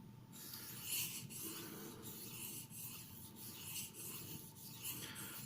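A Cold Steel Broken Skull knife in CTS XHP steel is drawn across a pre-polishing sharpening stone in repeated rhythmic strokes, a close, soft rasping scrape with brief pauses between passes.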